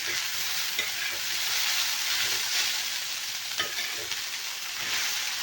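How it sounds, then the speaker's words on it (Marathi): Kurdaya, dried wheat fryums, are stir-fried and flipped over in a pan, making a continuous soft hiss of frying with light scraping and tossing sounds from close by, at a moderate level. "आपल्याला चांगलं परतून घ्यायचं आहे याला खालीवर करून"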